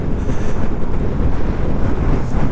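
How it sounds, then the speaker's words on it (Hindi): A strong wind gusts through a dusty hilly area near sand dunes in Ladakh, a loud continuous roar buffeting the microphone, with no voices. "वहाँ पे हवा चल रही है बहुत ज़्यादा।"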